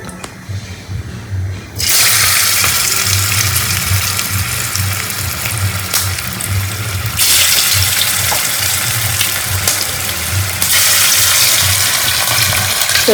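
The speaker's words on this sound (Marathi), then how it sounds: "आता तळून घेऊ वड्या" Colocasia leaf vadi, rolled taro leaf slices, frying in hot oil, a loud steady sizzle and crackle that surges in bursts as pieces are added, close to the pan.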